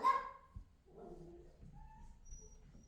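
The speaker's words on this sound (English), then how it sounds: "I'm babysitting my daughter's boyfriend's dog. It's a little chihuahua." A small chihuahua gives a sharp yip, then faint, thin whimpers and soft whines, quiet and close, in an otherwise hushed room.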